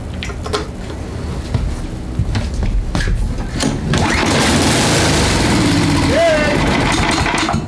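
A Murray 24-inch snowblower with an 8hp Tecumseh engine sputters, then settles into a steady, loud, close running chug, with a voice speaking briefly over it.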